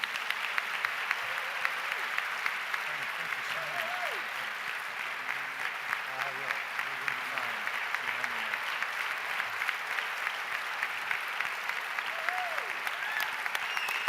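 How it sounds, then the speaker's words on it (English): Sustained applause from an audience honoring a teacher receiving a distinguished service teaching award, steady dense clapping throughout with faint voices and brief vocal sounds mixed in. "Please give Ron another huge round of applause."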